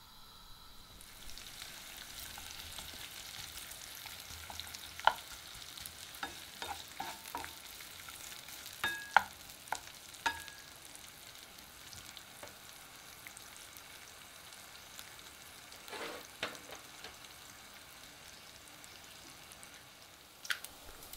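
Bacon cooks slowly in olive oil in a frying pan, starting from cold: a soft, steady sizzle runs throughout with scattered sharp pops and crackles, and no talk is heard.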